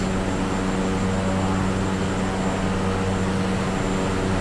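Simulated airplane engine drone from Microsoft Flight Simulator as the aircraft comes in to land far too fast, a steady, loud propeller-and-engine hum with no voices.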